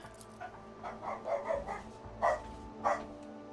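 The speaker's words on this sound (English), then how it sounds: "Oh, the dog, if you can hear him." A dog barks outside while people walk past: a series of muffled, distant barks and yips in irregular bursts over a steady low background hum.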